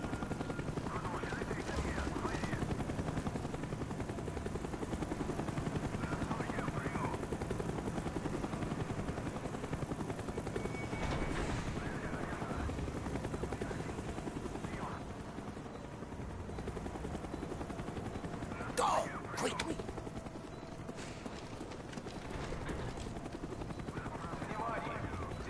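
A helicopter's rotor drones continuously throughout in the video game Call of Duty: Black Ops, with faint voices and occasional sharp bursts like distant gunfire mixed in.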